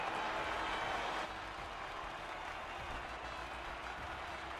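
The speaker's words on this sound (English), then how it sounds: "they thoroughly deserve the cheers of the crowd here today" A crowd applauds and cheers at the U.S. Grand Prix at COTA in the F1 23 racing game, a dense, even wash of clapping heard at a distance that drops a little in level after a second, with no talk.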